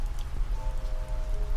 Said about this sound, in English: It's not going to stop raining anytime soon.